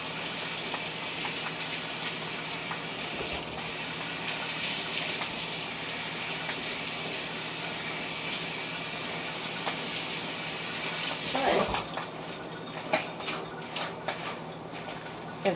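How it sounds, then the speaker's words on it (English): A tap runs steadily, water gushing and splashing for a long stretch while things are rinsed, then stops near the end, leaving a few clinks and knocks. "and then I rinse things off."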